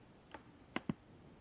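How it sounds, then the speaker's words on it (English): A few quiet clicks of a computer keyboard being typed on, three sparse keystrokes spread out over a second and a half, with nobody talking. "somebody's typing."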